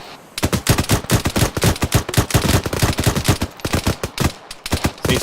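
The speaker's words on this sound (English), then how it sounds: "Rapid fire." Rapid rifle gunfire in the military shooter ArmA 3, a loud, continuous stream of sharp shots from several weapons overlapping in an uneven rhythm for several seconds, with no talking.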